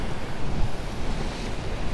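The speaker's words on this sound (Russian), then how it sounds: "Злая черноморская волна." Stormy Black Sea surf at Fiolent near Sevastopol during a fierce storm, a continuous loud roar of crashing waves mixed with gusting wind buffeting the microphone, steady and dense with no voices.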